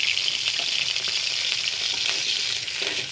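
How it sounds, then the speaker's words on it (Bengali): Onions sizzle steadily in a hot pan as they fry with salt for a pepper noodle dish, a dense continuous crackle at close range with no one speaking. "তো এভাবে আমরা পেঁয়াজটা কিছুক্ষণ ভেজে নিব"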